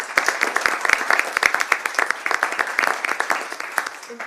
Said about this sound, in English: I would just like to applaud you also